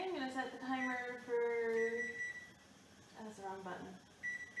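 Short electronic beeps from a kitchen timer as its buttons are pressed, several tonal chirps in an uneven sequence, close and moderately quiet, with someone talking around them.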